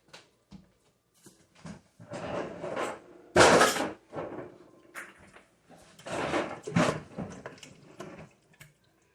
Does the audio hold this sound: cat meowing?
no